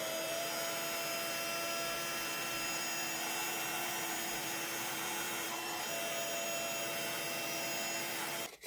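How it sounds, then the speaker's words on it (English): A heat tool blows a steady, loud roar without a break while clear embossing powder on a cardstock card is melted, and it cuts off abruptly at the end. No voices are heard. "I'm just going to heat emboss it with clear embossing powder"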